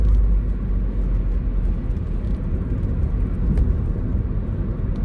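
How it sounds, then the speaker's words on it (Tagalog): Steady road traffic on a service road just off an Australian freeway, a continuous loud low rumble of passing cars and engines heard from close by with no talking. "Traffic."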